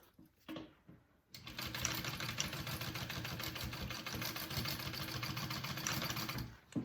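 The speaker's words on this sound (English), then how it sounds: "you're just going to baste that first at a 1/4 inch seam allowance" Sewing machine basting a backpack seam at a quarter-inch allowance, a steady rapid mechanical whir and needle clatter running continuously for about five seconds after a few brief handling sounds.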